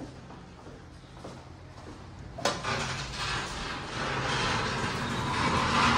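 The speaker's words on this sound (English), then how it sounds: "that's a loud door" An Esco hydraulic elevator door at a hotel in Galveston, Texas jolts with a sudden clunk partway through, followed by a loud, sustained rumbling slide over a low motor hum.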